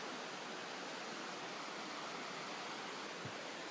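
A river rushes through a deep wooded valley in Judge Magney State Park, its steady, dense roar of flowing water filling the air continuously without change, with no voices present.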